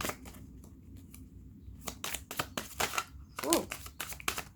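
Tarot cards being cut and shuffled, a series of close, crisp flicks and riffles in uneven bursts, with brief quiet talk in between.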